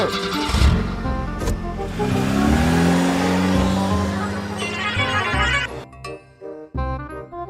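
A cartoon bus engine in a Sinhala-dubbed village cartoon starts and revs up, rising in pitch as it pulls away, followed by short clattering effects and brief pauses.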